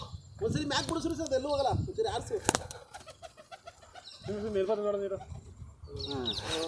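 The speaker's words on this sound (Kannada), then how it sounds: "ಈಗ ಎಲ್ಲಿಂದ ಬಂತು ಪಾರಿವಾಳ ಇದು" A pigeon coos and calls amid people talking nearby at a festival puja, the bird sounds brief and partly buried under the voices.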